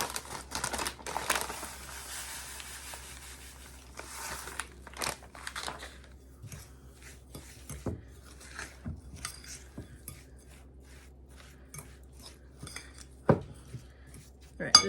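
Patty mixture mixed with panko in a bowl: soft scraping, tapping and squishing of a utensil against the bowl, faint and irregular, with scattered clinks.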